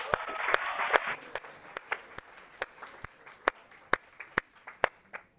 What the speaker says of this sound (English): Clap for Arbas, please.